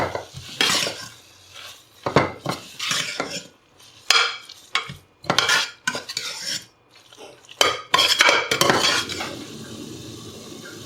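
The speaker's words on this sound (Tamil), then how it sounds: "இப்போ இது எல்லாத்தையும் நல்லா மிக்ஸ் பண்ணிக்கணும்" Prawn biryani ingredients with coriander and mint get mixed in a metal pan, a spoon clanking and scraping in irregular close, fairly loud strokes with brief pauses and a faint sizzle underneath, no speech.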